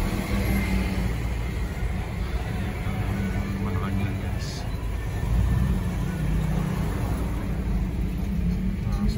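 Dense road traffic in a jam on Quirino Avenue near Mabini, a steady low rumble of idling and creeping engines that stays loud and continuous throughout, with the murmur of a voice mixed in underneath.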